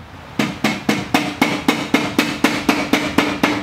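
A motorcycle rear monoshock, an air suspension unit on a Harley M8 Softail, is tapped into its mount with about twelve sharp, evenly spaced hammer blows, each ringing briefly, close up and with no talk.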